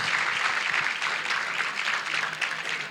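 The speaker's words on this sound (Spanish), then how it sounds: "Vamos a darle un fuerte aplauso" A church congregation applauds loudly during a Spanish-language sermon, a dense, steady wash of many hands clapping that fills the whole stretch without pause.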